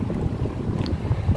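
Steady wind rushes and buffets a handheld microphone outdoors along the Han River in Seoul on a cool, clear day, a continuous low roar lasting about a second and a half with no talk.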